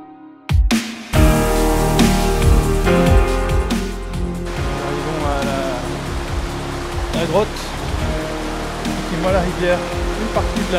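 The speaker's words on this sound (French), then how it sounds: "Une partie de la rivière sort bien de la grotte." A river rushes out of a cave in Sulawesi, Indonesia, making a loud, steady broadband roar of flowing water. A few knocks and handling noises sound over the rushing water, and people speak briefly over it.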